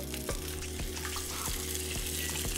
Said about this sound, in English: first thing we're gonna do is to cook the sausage. Yep, see it's sizzling.